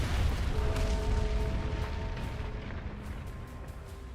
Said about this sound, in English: The cannon strikes a giant bell at the center of Octorygg